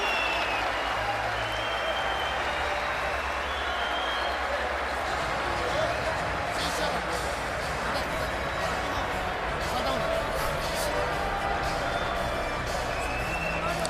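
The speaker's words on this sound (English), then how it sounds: "Crowd roars." A boxing arena crowd roars steadily through a late round of the Provodnikov vs. Matthysse fight, a dense, sustained wall of cheering and clapping that stays loud throughout, with voices faintly mixed in.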